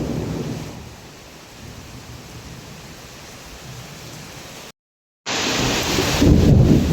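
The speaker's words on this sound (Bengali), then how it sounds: "এই বৃষ্টিতে" Heavy rain pours steadily as a broadband hiss, with low rumbling thunder swelling near the start and again strongly at the end; a brief dropout of total silence cuts in partway through.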